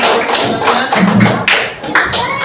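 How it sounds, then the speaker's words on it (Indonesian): A group of participants applauds a presenting group in an Indonesian teacher-training classroom session, producing a dense, steady patter of hand claps with some muffled taps and thuds, moderately loud and close, throughout the short burst. "Kita kasih aplaus kelompok 2."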